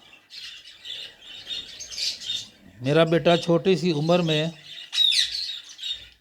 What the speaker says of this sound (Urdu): یہ میرے بیٹے کا چھوٹا سا برڈز کا شیڈ ہے۔